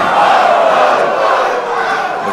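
A wrestling event crowd roars and cheers loudly and continuously after a heavy knife-edge chop in the ring, a dense wash of many voices with no clear commentary over it.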